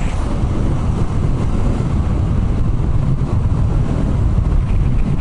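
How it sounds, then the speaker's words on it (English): Steady, loud wind roar buffets the microphone while riding a Yamaha FZ-07 motorcycle into a headwind on a California highway, a dense low rumble that never lets up and has no talk over it. "You get a headwind and you're driving into it."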